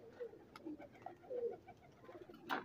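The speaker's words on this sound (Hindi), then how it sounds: "ये कबूतर हैं दोस्तों सारे एक्स्ट्रा बड़े साइज में है।" Extra-large Rampuri and Royal Patta pigeons coo in a soft, repeated murmuring rhythm close by, with a brief louder rustle near the end.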